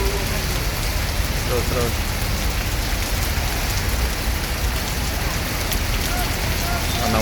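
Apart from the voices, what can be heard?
rain falling at Rosalia Indah bus ticket office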